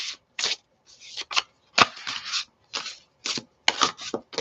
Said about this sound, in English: I'm going to do one last big shuffle